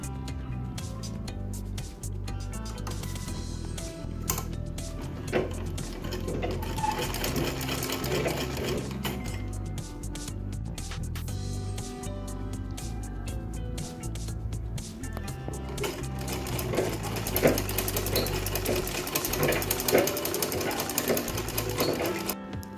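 Sewing machine stitching together cross-cut strips for a blouse neck: continuous close stitching runs for over twenty seconds with an uneven, rattling rhythm and scattered mechanical clicks throughout.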